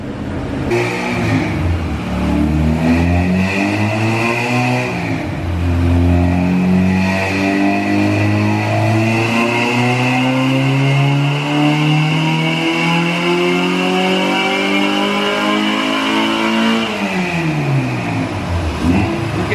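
A car engine revs on a dyno, pitch climbing steadily in a long sustained pull before dropping sharply near the end, loud and alone.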